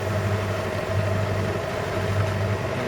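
A boat's engine drones steadily while motor sailing along the Spanish coast in light wind, a continuous low hum with no voices.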